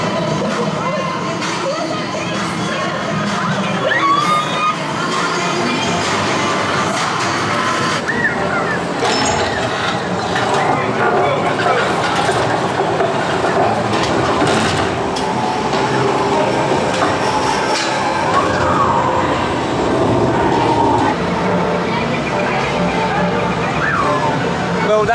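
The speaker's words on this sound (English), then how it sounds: "Well, that was another excellent dark ride here." Forbidden Territory dark ride at IMG Worlds of Adventure in Dubai, a loud, continuous rumble of moving ride vehicles mixed with soundtrack effects and crowd voices throughout.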